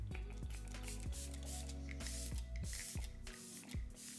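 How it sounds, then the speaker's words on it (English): Several quick spritzes of e.l.f. Stay All Night Microfine Misting Setting Spray hiss in bursts over steady background music, each mist a short airy puff. "This is the Stay All Night Microfine Misting Setting Spray"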